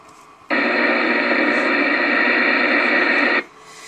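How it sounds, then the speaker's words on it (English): Steady hiss of radio static on the 160 meter amateur band switches on abruptly, holds at an even level for about three seconds, then cuts off, heard over a quieter background. "Got a lot of noise here on 160 meters"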